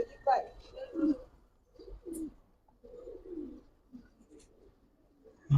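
Giribaz pigeons cooing in a loft, several soft throaty coos spaced irregularly, close and fairly quiet, with someone talking intermittently among them.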